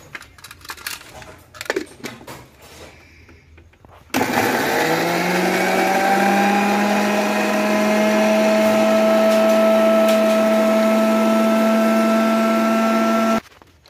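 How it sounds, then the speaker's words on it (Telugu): A kitchen mixer grinder blends cut beetroot pieces for juice: a few clicks and knocks, then a sudden loud motor whine starting with a rising pitch and holding steady for about nine seconds before cutting off. "ఈ కట్ చేసిన ముక్కల్ని మనం మిక్సీ అయితే వేసుకోవాలి"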